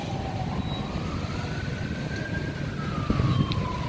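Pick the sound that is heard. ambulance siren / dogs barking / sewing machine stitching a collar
ambulance siren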